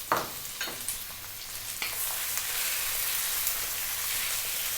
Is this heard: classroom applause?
no